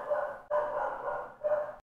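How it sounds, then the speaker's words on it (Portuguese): A pet dog named Piche barks loudly and close by in bursts, a sustained bark, a short pause, then another bark run and a final clipped yelp, with no talking over it. "Quando eu vou gravar, a piche começa a latir."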